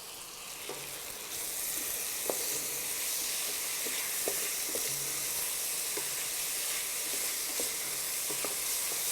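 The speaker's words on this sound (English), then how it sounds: "So now I can bring in my peppers as well as my peas." Peppers and cooked peas sizzle in a pan for jeera vegetable rice, a constant hissing fry at moderate volume with occasional light taps and clicks of a utensil, no talking.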